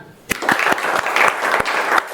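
A class of students claps together briefly at a teacher's prompt, a short burst of close applause with a few distinct sharp claps.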